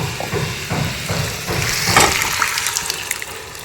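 Water pours and splashes into a pressure cooker, with a few clanking knocks of metal early on, then a steadier filling rush; no one speaks.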